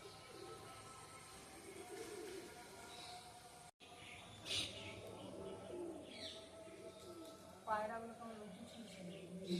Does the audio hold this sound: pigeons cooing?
yes